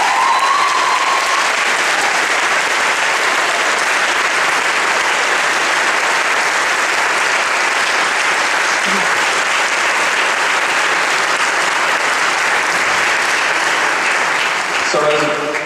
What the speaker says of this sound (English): So there's one more round of applause for the very,